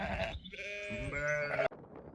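Sheep and lambs bleat in a field close to a farm during lambing season. Two or three wavering calls sound clearly and nearby, with a light background of wind.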